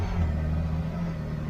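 A Ford Maverick pickup with automatic transmission rolls off and gently accelerates, a steady low engine rumble close by with a slight rise, no voices.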